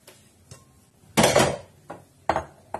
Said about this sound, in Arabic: وغادي نبدا نخلط